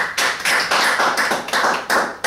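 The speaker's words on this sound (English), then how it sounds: "Round of applause." A round of applause for a winning netball team during a university sports roundup: brisk, close clapping from a small group in uneven bursts, loud and alone with no talking.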